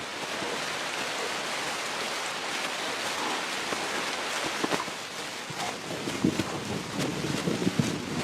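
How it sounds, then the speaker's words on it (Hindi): Heavy rain pours steadily across flooded plains in the wild, a dense continuous hiss of water with gusts of wind buffeting the microphone and a few sharper splashes toward the end. "लगभग हर दिन तेज बारिश हो रही है।"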